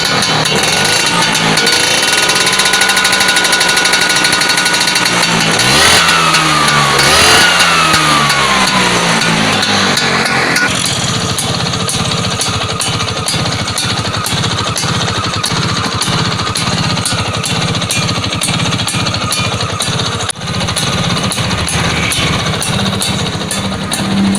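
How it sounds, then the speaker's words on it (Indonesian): A Vespa PX scooter's two-stroke engine, just fitted with repaired ignition points, revs up and down in a few sweeping blips, then settles into a steady, even, rapidly ticking idle, close and loud throughout. "Ini sudah enak suaranya dan putaran stasionernya sudah enak banget ini"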